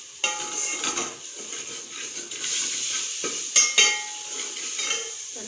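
Onions frying with salt, chili and spices in a home kitchen, a soft continuous sizzle broken by occasional clinks and scrapes of a spoon against the pan.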